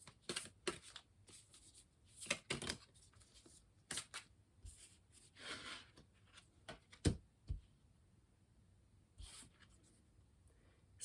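Tarot cards that stick together slightly are shuffled with soft, irregular riffles and slaps, in short bursts separated by quiet gaps, close and faint.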